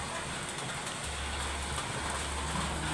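Rain pours outdoors, a dense steady hiss with a low rumbling hum underneath that drops out briefly and returns.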